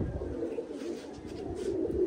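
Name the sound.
pigeons cooing in a loft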